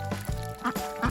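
Hungry farm ducks quacking noisily early in the morning before feeding, a few short nasal quacks in quick irregular succession, close by, with a low background hum underneath.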